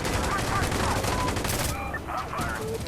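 Gunfire rattles in Insurgency Sandstorm, a busy barrage of overlapping shots and bursts at moderate level that thins out briefly toward the end, with faint game sounds in the background.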